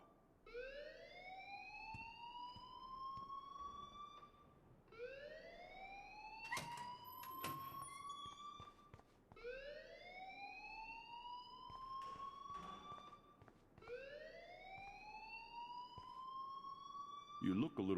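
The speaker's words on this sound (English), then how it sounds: "please turn off that alarm since that's your job" A repeating rising electronic alarm in the Life is Strange video game wails in four long sweeping cycles, steady and prominent, with brief clatter and a voice-like burst in the middle.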